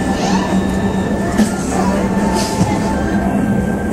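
A Tokyo Metro Ginza Line 01 series subway train, silver with an orange stripe, runs at a steady, fairly loud level with a sustained low hum and faint tonal whine throughout.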